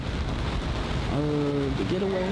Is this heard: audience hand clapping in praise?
no